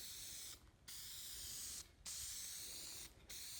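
Paint hisses from a spray can onto Chevrolet Avalanche tonneau cover panels in three steady bursts, each lasting over a second, separated by short breaks, close and fairly loud with no voices.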